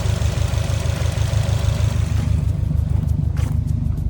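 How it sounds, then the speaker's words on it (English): The radiator cooling fans on a Subaru WRX whir steadily under a close, idling engine, a constant low droning hum with no talking. "The fans are on"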